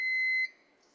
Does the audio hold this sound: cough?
no